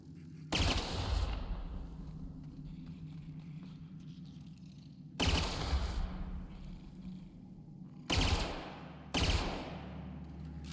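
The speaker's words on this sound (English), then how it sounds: "We can use the pistol to shoot mines." Pistol shots crack out in The Outer Worlds video game, four loud, sharp blasts at irregular intervals, each trailing off into a decaying echo over a low ambient hum.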